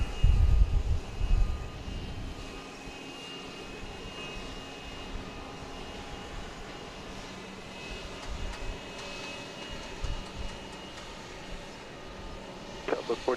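Boeing 737 jet departing Dallas Love Field at night, a steady distant engine roar that stays low and even, with a few bumps of nearby noise and radio chatter.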